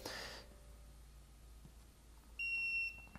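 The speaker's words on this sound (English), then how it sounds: "You hear the Maxi PC Suite beep" A single clear electronic beep from Autel Maxi PC Suite software on a computer, confirming a connection, sounds briefly near the end, high and steady, over a quiet room hum.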